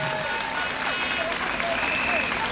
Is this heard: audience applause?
yes